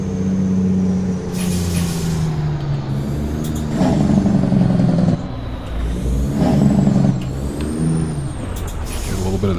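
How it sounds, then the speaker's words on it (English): A Kenworth T100 truck in American Truck Simulator uses its Jake brake, a loud, rumbling engine drone that rises and falls, with sharp bursts of air hiss breaking through. "Get a little bit of the Jake brake there."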